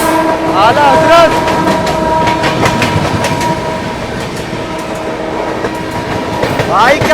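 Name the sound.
Lucknow Tejas train overtaking Poorvottar Sampark Kranti Express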